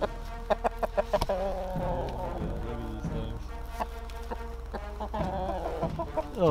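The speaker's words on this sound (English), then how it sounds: "Oh, look at this rooster here." Backyard chickens and a rooster cluck in a quick, irregular series of short calls, fairly close but moderately quiet, with no talk over them.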